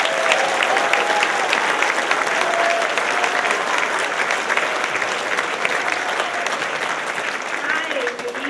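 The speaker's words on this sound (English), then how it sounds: "huge round of applause to Ms. Lauren LeMay, our band booster president." Audience at a middle school band spring concert breaks into sustained applause, a full, even roar of clapping from a large crowd lasting several seconds with faint cheers and voices mixed in.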